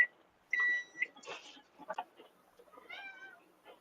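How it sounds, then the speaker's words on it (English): A cat meows a few times indoors, with short rising calls near the end, after a steady electronic beep and some rustling. "Meow, No Brady."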